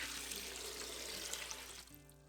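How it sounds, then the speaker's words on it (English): Cold water poured from a container into an Instant Pot, a steady splashing rush of about two seconds that stops abruptly near the end. "Pour in 4 cups of cold water."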